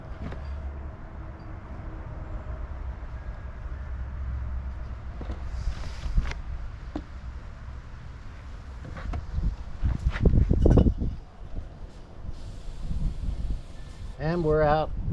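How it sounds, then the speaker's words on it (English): Strong gusty wind blows outdoors, a steady rumbling roar buffeting the microphone with louder surges midway, while a voice speaks over it near the end. "the wind's kicking up terrible."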